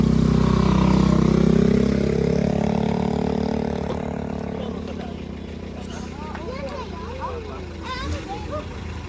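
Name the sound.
motorcycle passing by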